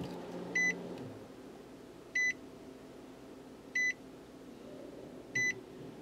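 Four short electronic warning beeps from a Nissan car switched to ignition-on during ECM reprogramming, evenly spaced about every 1.6 seconds over a low shop background hum.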